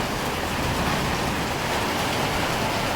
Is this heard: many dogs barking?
no